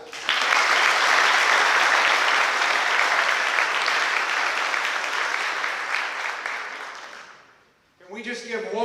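Warm applause from an audience at a high school senior awards ceremony fills the room, steady and dense for about seven seconds before fading out; a voice starts speaking near the end.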